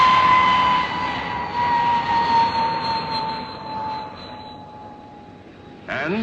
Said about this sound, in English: P-1067, the fastest fighter flying today